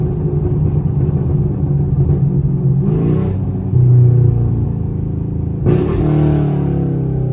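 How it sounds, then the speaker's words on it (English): A Chevrolet Camaro SS rumbles loudly nearby, with two sharp rev blips as it downshifts, the second louder and rawer, over a steady low exhaust drone. "Hey, this Camaro sounds so good."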